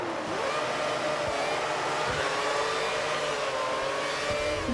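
Racing cars rev hard at the race start on the Marina Bay circuit in a racing video game, a loud, continuous engine roar whose pitch climbs and shifts as the field launches together, with no voices.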